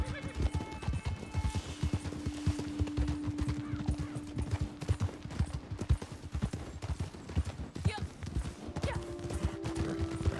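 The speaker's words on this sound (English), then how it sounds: "my horse is gonna buck me off any minute" Horse hooves cantering in the video game Red Dead Online, a steady rapid clip-clop rhythm running throughout, loud and close, with game music tones and occasional voices talking over it.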